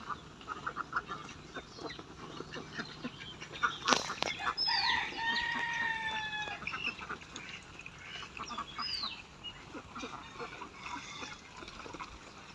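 Laying ducks quacking loudly and close while being fed a mixed feed, with bursts of calls in the middle and splashy, busy background noise throughout and a faint voice now and then.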